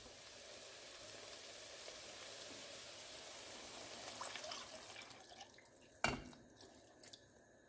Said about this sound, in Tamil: இப்போ தண்ணி ஊற்றி கொதிக்க விட போகிறோம்.